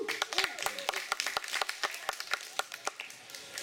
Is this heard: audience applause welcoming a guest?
yes